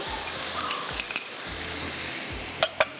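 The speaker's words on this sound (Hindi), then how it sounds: "यहाँ पर जाएंगे ये पिसे हुए टमाटर। ठीक है, इसके बाद टोमेटो पेस्ट," Ground tomatoes hit hot oil with onions and spices in a pan, giving a steady low sizzle with soft stirring scrapes and two brief utensil clinks near the end.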